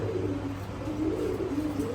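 A Nazra Kaldom pigeon coos steadily and close, low soft repeated calls running through the whole stretch with no talk.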